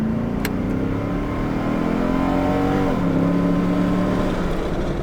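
A 2018 Nissan Titan pickup truck accelerates hard, its engine droning loudly and steadily with a rising pitch that dips briefly at a gear shift, then climbs again, heard from inside the cab.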